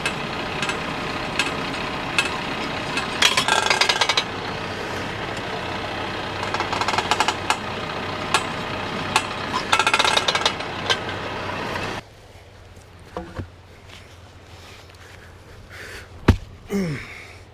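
A tractor idling at its slowest speed drives an auger into the ground to drill fence post holes, with loud, steady knocking and clatter. The sound then drops to a quieter rumble with a few sharp knocks.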